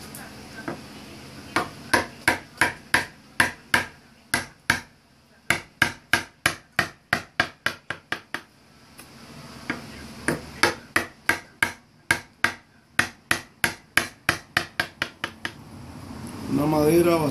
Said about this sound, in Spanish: estoy preparando para empezar a tallar la moldura de este cuadro